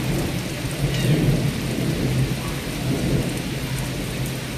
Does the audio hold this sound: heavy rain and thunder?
yes